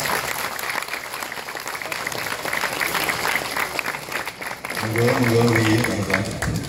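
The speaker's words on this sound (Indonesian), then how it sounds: "tepuk tangan semuanya" An audience claps at a gathering, steady applause running throughout and swelling louder near the end, with a voice talking over it.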